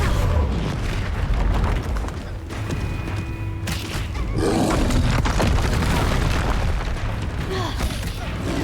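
Bombarda explosion spell in the Hogwarts Legacy video game, giving heavy booming blasts and rumbling crashes amid dense, loud combat noise, with a brief tonal ring partway through.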